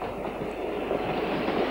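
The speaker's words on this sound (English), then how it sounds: "Railways." A train runs along a railway with a steady rumbling roar and faint wheel clatter, continuous and fairly close.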